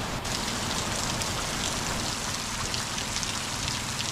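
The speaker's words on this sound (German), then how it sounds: "Und was macht es im Regenwald? Es regnet." Steady, dense rainfall patters continuously on leaves and surfaces in a Brazilian rainforest, a loud unbroken hiss with no voices.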